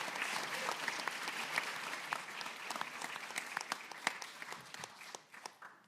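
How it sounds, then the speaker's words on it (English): An audience gives a round of applause for the coaches at the event, a dense spread of clapping that holds steady and then thins out toward the end. "I'd like them to please stand right now so we can give them a big round of applause."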